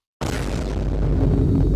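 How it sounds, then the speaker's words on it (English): A sudden loud bomb explosion sound effect bursts in after brief silence and rolls on as a sustained deep rumbling boom. "I should have dropped one of Clue's bombs on that one."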